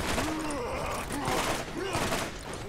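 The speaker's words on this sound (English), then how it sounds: "I'm getting shot at from clear across the map. Oh my gosh, there's a guy like on a turret" Turret gunfire in the video game Borderlands, several short bursts of shots under game sound.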